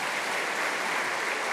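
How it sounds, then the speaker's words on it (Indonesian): An audience applauds a priest in a Catholic church gathering of the Diocese of Bogor: dense, steady clapping that fills the space evenly, with no voices above it. "tepuk tangan"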